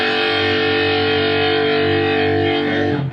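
A distorted electric guitar, a Carvin Allen Holdsworth HH2X, holds a sustained, buzzy chord that rings steadily for about three seconds before cutting off near the end.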